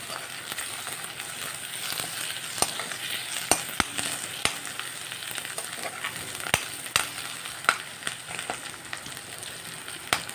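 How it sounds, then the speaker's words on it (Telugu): Turmeric being stirred into ginger-garlic paste frying in a pan: a steady close sizzle with crackling and sharp periodic scrapes of the spoon against the pan, no talking. "ఇప్పుడు ఇందులో కాస్త పసుపు వేసి కలిపేసేయాలి."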